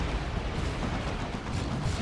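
In the Warhammer 40k: Dawn of War 2 battle game, a side cannon fires during a 3v3 match, a dense rumbling barrage of booming blasts that runs continuously with no voices.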